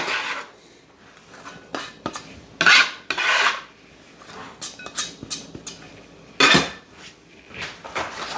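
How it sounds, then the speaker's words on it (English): Chopped onions scraped off a board into a bowl for caldo verde, a series of rasping scrapes and knife-on-board strokes with a couple of louder, longer sweeps, close and with no talking. "I'm just gonna put the onions in a bowl real quick"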